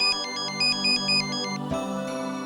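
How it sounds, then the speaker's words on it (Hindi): A telephone ringtone in a home goes off in a loud, repeating electronic tone pattern, close by, with no talk over it. "घर में घुसे नहीं कि नहीं फोन बजना चालू"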